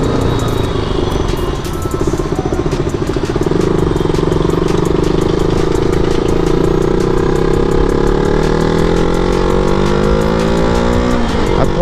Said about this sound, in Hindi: मैं बाइक मेरे हिसाब से चलाता हूँ।